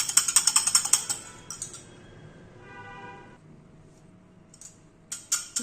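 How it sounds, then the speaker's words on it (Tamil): Beaten eggs whisked in a bowl for an omelette, with quick light clinking strokes in a burst at the start, a quieter pause with a faint hum, then a few more sharp taps near the end. "நல்லா நல்லா அடிச்சுக்கலாம் நல்லா எவ்வளவு அளவு அடிக்கிறோமோ அவ்வளவு அளவுக்கு நல்லா இருக்கும்"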